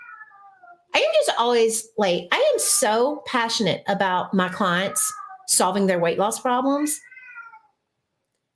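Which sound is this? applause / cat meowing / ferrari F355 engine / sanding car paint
cat meowing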